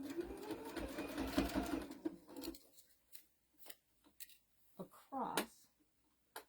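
Sewing machine stitching across elastic on a fabric bookmark, a steady whirring run for about two seconds, then short stop-start bursts of stitching with gaps between.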